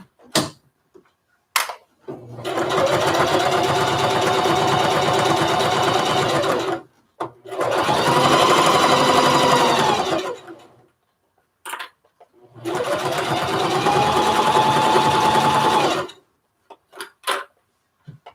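Sewing machine stitching fabric and batting for a lunch tote, running in three long steady bursts of rapid needle whirring separated by short pauses and small clicks.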